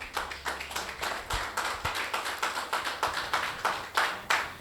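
A church congregation claps in a steady, rhythmic beat, each clap sharp and evenly spaced, filling the room at close range.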